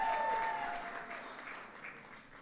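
Guests at a Cinco de Mayo reception applaud an ambassador, a moderate burst of clapping that fades gradually over a couple of seconds.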